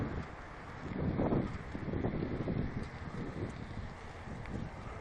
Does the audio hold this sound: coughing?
no